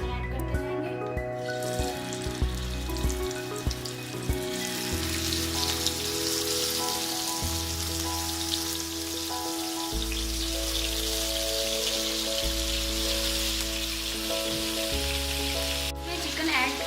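Chicken pieces fry in two to three spoons of hot oil in a frying pan, a steady crackling sizzle with bursts of spattering, layered over a constant droning tonal background.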